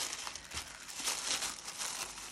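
Tissue paper crinkles and rustles as a Christmas market gift box with a sticker is unwrapped, close and soft, in a run of light irregular crackles and crumples.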